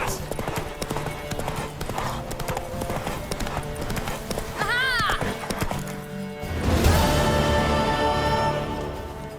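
A horse gallops with rapid rhythmic hoofbeats in The Witcher 3, close and prominent over game music, with a brief whinny midway and a voice shouting briefly.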